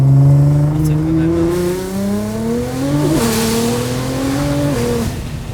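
A 1000 hp Nissan GTR revs hard and accelerates, its engine note climbing steadily through the gears with one brief shift, loud and close, while people talk excitedly over it.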